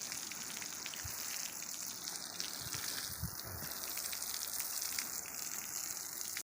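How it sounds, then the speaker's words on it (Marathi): A homemade jugaad sprayer showers water over garden plants like rainfall, a soft, continuous hiss of falling drops heard close but faint and unbroken throughout. "एकदम भारी पाणी मारा ना जुगाड एकदम पावसाळ्यासारखा पाणी पड"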